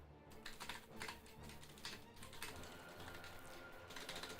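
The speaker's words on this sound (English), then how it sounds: "Typing it out first." Quick keystrokes tapped out on a computer keyboard, a steady run of close, faint clicks with no voice over them.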